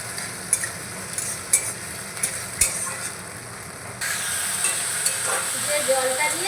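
A puffed rice mixture with water and a little tamarind is stirred in a frying pan, a spatula scraping in regular strokes over a soft, steady sizzle that grows denser toward the end.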